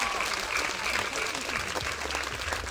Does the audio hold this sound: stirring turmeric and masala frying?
no